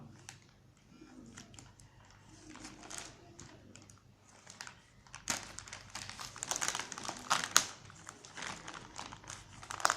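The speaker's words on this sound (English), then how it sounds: "So we are going to just unbox it now" Packaging of a Swipe Slate 8 tablet being opened, with faint crinkling and tapping at first, then louder close crumpling and rustling of plastic and cardboard.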